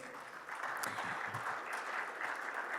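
Audience applause at a security summit in Chile, following the introduction of a Carabineros lieutenant colonel: a steady, dense wash of clapping from a seated crowd that holds at an even level and grows slightly fuller midway.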